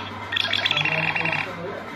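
A Nothing Phone 1 smartphone plays its ringtone, a short, bright chiming melody of quick electronic tones lasting about a second, heard at close range against a faint steady hum.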